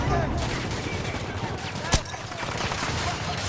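Battlefield 2042 gunfire, a steady rattle of distant shots under a busy battlefield din, punctuated by one sharp, louder crack near the middle.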